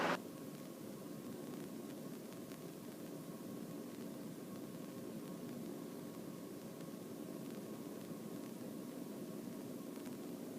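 Inside a Robinson R22 helicopter taxiing in strong wind, a constant dense engine and rotor roar with a steady hum fills the cabin, unchanging throughout with no talk.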